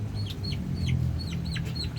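Chicken clucking in a rural yard, several short chirpy calls repeating at a steady pace over a constant low background hum, moderately close.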